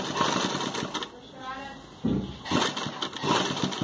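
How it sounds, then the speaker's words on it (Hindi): An electric sewing machine stitches a kurti's open slit closed, running in short rattling bursts with a brief pause in the middle, close by, while a person talks quietly in the background. "ऐसी सिलाई बिल्कुल नीचे तक ले आए, इसे बंद कर देंगे।"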